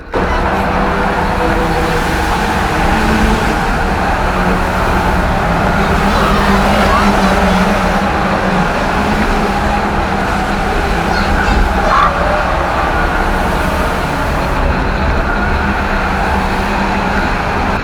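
Race cars roar around the short oval at Cowdenbeath Racewars, engines droning loudly and continuously in close, wheel-to-wheel racing with a thick wash of road noise throughout.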